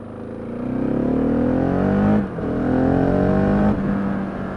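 A 2016 Husqvarna 701 single-cylinder supermoto engine revs hard and close, its pitch climbing smoothly, dropping briefly at a shift, then rising again to a high sustained whine with a second shift near the end.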